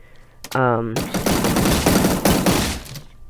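Rapid-fire gunshots from a Minecraft PVPGuns+ plugin weapon, a fast continuous burst of shots lasting over two seconds, loud and close, preceded by a short tonal sound and someone speaking.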